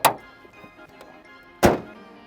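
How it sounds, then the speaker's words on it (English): Two solid thunks ring out about a second and a half apart as a car hood is shut on a certified used car, each loud and close with a short ringing decay. "Make sure the hood closes normally."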